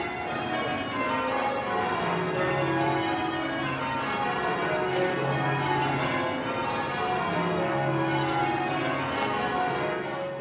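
Heavy English church bells rung by a team of ringers, a dense overlapping wash of tolling tones with sustained hum, steady and somewhat distant, no voices.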